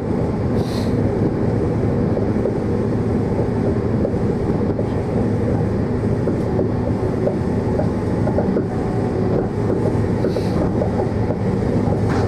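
Passenger train to Exeter heard from inside a carriage: continuous loud rolling rumble with faint rhythmic clicks of wheels over rail joints, steady for the whole stretch.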